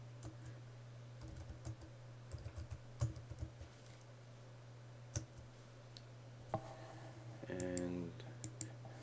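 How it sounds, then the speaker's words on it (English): Soft keystrokes tap on a computer keyboard in an irregular run during a Cisco AnyConnect install on CentOS, faint and close over a steady hum, with a brief burst of mouse-like clicking near the end. "then type in your Lehigh password and ID"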